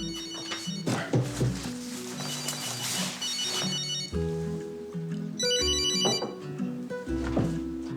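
A telephone rings with a melodic electronic ringtone in an indoor scene, repeating tone patterns steadily over the full length against a musical background.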